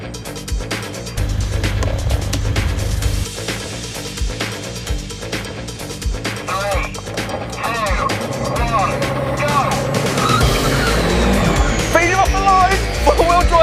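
A Mercedes A45 AMG launching and accelerating hard in a drag race against a CLS63 AMG, engine roaring with rising revs and gear changes, heard from inside the car with excited talk over it.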